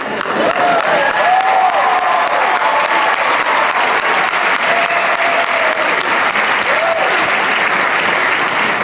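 A large crowd at a motivational talk gives loud, sustained applause, a thick, uninterrupted roar of clapping for the whole stretch, with faint whistle-like cheers rising briefly above it.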